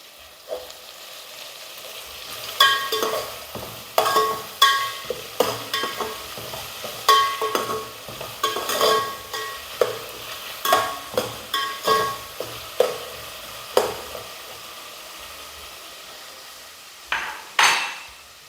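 Sliced onions with a little salt frying in a pan for egg biryani, with repeated scraping and clinking stirring strokes over a low sizzle, loud and close, no voices.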